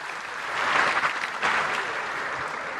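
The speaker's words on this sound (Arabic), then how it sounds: "صفقوا عليهم بزاف" An audience at the 2025 CAF awards ceremony applauds the women's national football team: dense, steady clapping from a large crowd, swelling slightly in the middle and holding without pause for about three seconds, with no voices over it.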